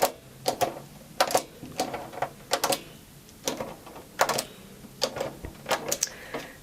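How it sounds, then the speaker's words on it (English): A hand hole-cutting tool punches holes through card for a handmade beach-themed card, giving a series of sharp, close clicks and clunks in irregular clusters with short pauses between them. "I'm going to go ahead and cut lots more holes all over just the left hand side of the card"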